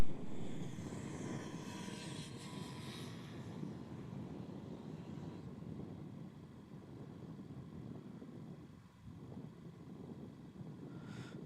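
A Velocity airliner lands at Melbourne Airport, heard from a distance as a broad, low engine roar that swells early and then settles into a steady rumble with wind noise, fading slightly toward the end.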